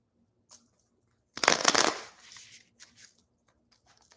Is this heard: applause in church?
no